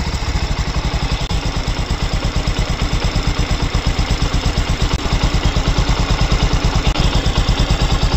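Bajaj Discover 125 motorcycle idling after a carburettor adjustment, a loud, close, even putter with fast regular pulses and a light mechanical clatter, steady throughout and no voices.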